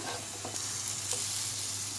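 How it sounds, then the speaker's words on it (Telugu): Chicken shami kababs fry in ghee on a pan over a medium flame, giving a steady, soft sizzle and hiss with faint stirring noises, close and continuous throughout. "పెన్నం మీద కూడా నెయ్యి వేసుకొని మంచిగా కాల్చుకోవాలి"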